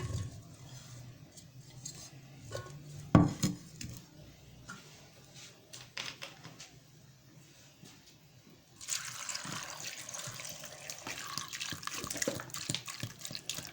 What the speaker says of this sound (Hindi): ये अब हम इसमें आलू जो हम देगची में डालेंगे और इसमें इनको हम धोएंगे।